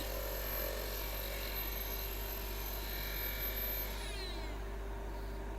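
A Dremel rotary tool spins at around 30,000 RPM on a woodturning setup, giving a continuous high-pitched whine over a steady low hum, its tone sliding downward near the end as it slows.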